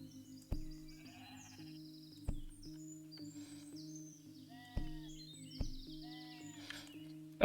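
Sheep in the nature-building game Equilinox bleat repeatedly over a looping musical backdrop, with sharp clicks marking the gaps between calls and no voices.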